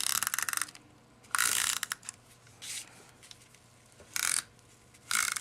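A Stampin' Up Snail adhesive tape runner rolls across a cardstock Christmas card front in several short, ratcheting bursts, close and crisp with quiet gaps between strokes.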